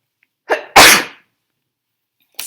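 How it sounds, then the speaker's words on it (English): A single loud, close sneeze from an adult, a short in-breath followed by a sharp explosive burst, then quiet. "I'm sorry, I'm going to sneeze."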